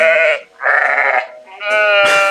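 Cartoon sheep in an animated history piece bleats loudly and close, three wavering calls in quick succession with no voices over them.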